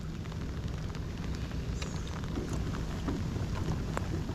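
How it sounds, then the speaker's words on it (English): Steady rain falls around a kayak during a fishing trip in jungle-like water after Hurricane Helene, a continuous dense patter with faint scattered drips and no voices. "Getting rained on. Yep. Lots and lots of rain."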